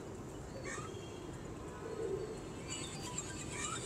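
Pigeons coo softly and repeatedly at a loft kept by a pigeon fancier, a low steady murmur of calls with a few brighter chirps over a constant background hum.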